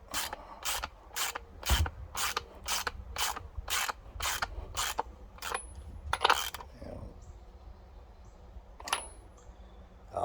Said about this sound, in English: I'm just going to screw it on in and check it.